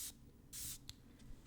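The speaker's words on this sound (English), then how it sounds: "And I'm gonna spray this right here." Perfume sprays from an Oakcha Parallel bottle in two quick hissing bursts, the second longer, faint and close with no talking.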